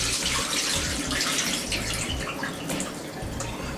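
Warm tap water runs steadily while rice is washed by hand in a kitchen, a continuous close splashing rush with no voices.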